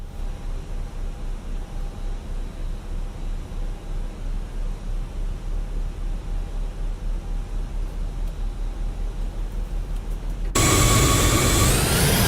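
An Aerosoft A340-600 jet engine spools up in Microsoft Flight Simulator 2024, a steady low rumble with a soft pulsing beat that swells into a sudden loud, bright roar near the end.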